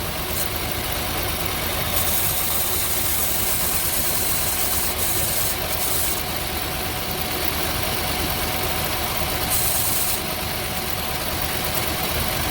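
A 2005–2009 Chevy Equinox engine idling while it warms up, a steady, even rumble with constant vibration, loud and close, running alone without a break.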